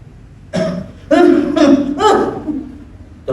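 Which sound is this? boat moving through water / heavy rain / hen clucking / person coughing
person coughing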